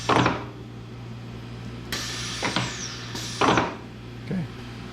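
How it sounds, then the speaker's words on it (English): Pneumatic clamps on a circa-1998 GUNNAR 1001 mat-cutting machine drop and rise together, giving sharp mechanical thumps and hissing air bursts at intervals over a steady low machine hum. "when I run the clamp button, they all go down and up together."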